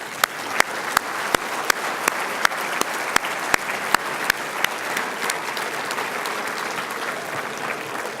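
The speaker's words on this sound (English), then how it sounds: "please stand and accept a round of applause" Audience applause at a President's Council reception honoring a general: dense, steady clapping from a room full of people throughout, with sharp regular claps standing out near the front for the first several seconds.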